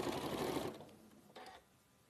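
A sewing machine runs steadily while stitching a quilt seam, a dense mechanical whir that stops partway through, followed by a brief second burst of stitching.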